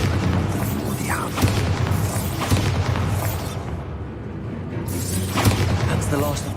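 Booming Bombarda blast spells in the video game Hogwarts Legacy, a few heavy thuds and bursts over steady rumbling background, with a voice speaking between them.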